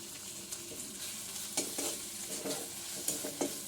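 Crushed peanut powder is stir-roasted in a pan with greens and chili paste for a tandalja bhaji, giving a soft steady sizzle broken by periodic scraping strokes of the spoon, close and without talk.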